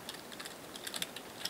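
Soft, rapid keystrokes tap on a computer keyboard as code is typed, an irregular quiet clicking run, close and faint with no voices.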